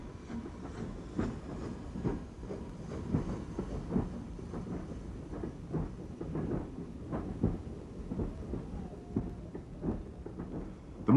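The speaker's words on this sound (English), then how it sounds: "number 75078 leaves Bury with the first train of the day" Steam locomotive 75078 with a BR2 tender pulls out of Bury with the first train of the day on a misty morning, a faint, rumbling chuff and clatter heard from a distance.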